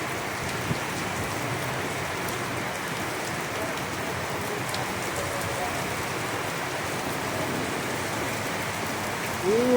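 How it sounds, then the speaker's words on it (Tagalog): Heavy rain mixed with hail pouring down in Muhayil, Asir, Saudi Arabia, a dense continuous hiss of drops hitting surfaces, steady and close, with a sharp knock near the end. "Baha na meron kasamang yelo yung pagbagsak niyan."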